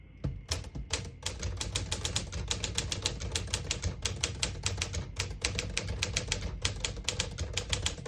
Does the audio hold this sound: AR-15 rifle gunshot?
no